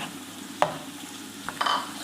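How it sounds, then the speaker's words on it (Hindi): Minced meat keema dropped into oil with browned onions, giving a few sharp sizzling bursts and stirring scrapes against a low steady background hiss, close by. "इसको हमने अच्छा सा प्याज के साथ भूनना है"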